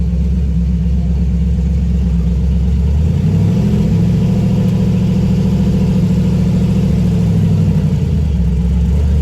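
A Chevrolet Camaro engine rumbles loudly and close by, idling low before rising into a sustained rev and settling back down, with no talk over it.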